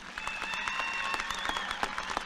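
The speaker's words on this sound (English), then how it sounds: "Let's give these students a round of applause." A graduation audience at a 2020 high school ceremony claps steadily for honored students, dense overlapping applause with a few sharper claps and faint crowd murmur throughout.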